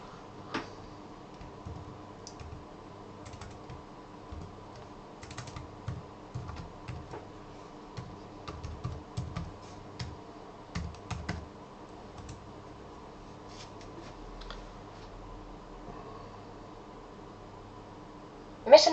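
An HP EliteBook 840 G5 laptop keyboard is typed on during Windows setup, with soft irregular key clicks in scattered bursts over a faint steady hum, close and quiet, with no talking.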